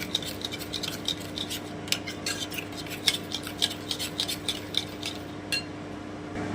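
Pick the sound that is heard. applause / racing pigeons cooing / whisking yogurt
whisking yogurt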